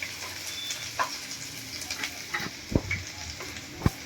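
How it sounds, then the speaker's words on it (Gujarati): Garlic sautés in hot oil with cumin seeds in a pan, cooking for a Gujarati bitter gourd dish: a steady soft sizzle with a few sharp crackles and pops. "લસણનો કલર ચેન્જ થાય ત્યાં સુધી આપણે લસણને સાંતળીશું"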